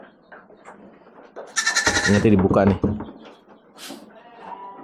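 A Dorper sheep in a breeding pen gives a loud, wavering bleat lasting over a second, up close, while someone talks nearby and a gate or panel rattles.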